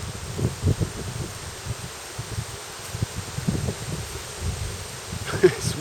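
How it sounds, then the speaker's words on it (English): Wind picking up outdoors, rustling: a steady, soft wash of wind noise with irregular low gusts buffeting the microphone, moderately close and fairly quiet, with no voices. "Oh, wind's picking up."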